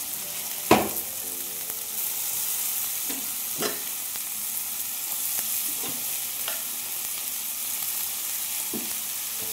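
Boiled banana flower frying in a pan, a continuous close sizzle with a few sharp stirring knocks and scrapes.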